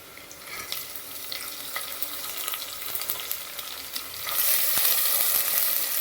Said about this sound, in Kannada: ಈಗ ಮಡಿಕೆ ಕಾಳದ್ರಲ್ಲಿ ಹಾಕ್ತಾಯಿದ್ದೀನಿ